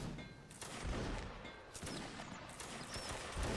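Volley of muskets fired by Civil War reenactors of the 3rd Virginia at a training drill, a dense ragged crackle of overlapping reports outdoors, fairly distant and sustained over several seconds.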